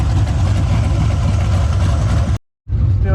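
A warmed-up GMC Yukon XL Quadrasteer engine idles with a steady, loud low rumble up close, broken by a brief dropout near the end before the drone resumes.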